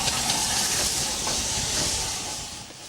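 Steam hissing loudly and steadily from a 2MT steam locomotive built at Swindon in 1953, close by and alone, easing slightly toward the end.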